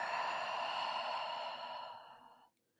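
A long, soft exhale through the nose and mouth during a morning yoga session, one smooth breath close to the ear that trails off into silence.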